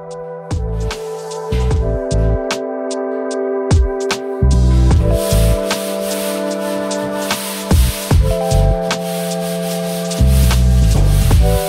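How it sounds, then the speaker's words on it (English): Sanding primer on a surface by hand: repeated rhythmic rubbing strokes, close and fairly loud, with no talk. "I finished sanding the primer"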